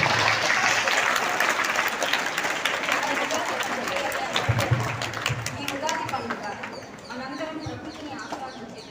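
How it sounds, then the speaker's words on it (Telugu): Audience applause for students at a school Ugadi celebration in Guntur, a dense sustained clatter of many hands filling the hall, with crowd murmur and voices underneath throughout. "ఒక్కసారి వారందరి కోసం గట్టిగా చప్పట్లు కొట్టవలసిందిగా కోరుకుంటున్నాము"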